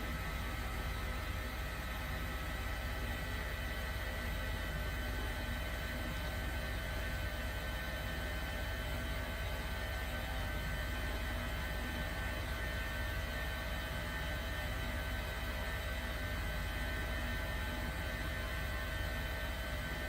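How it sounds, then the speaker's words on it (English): Twin engines of an H145 helicopter spool up in Microsoft Flight Simulator, a steady loud turbine roar and whine holding constant with no break, no voices. "All engines started successfully."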